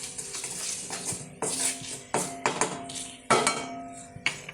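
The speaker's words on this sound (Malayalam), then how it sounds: "അതൊന്ന് ഇളക്കിയേക്കാം." A spoon stirs chilli powder into ridge gourd chutney in a pan, giving a series of close scraping strokes and clinks against the metal at an irregular rhythm, with no voices.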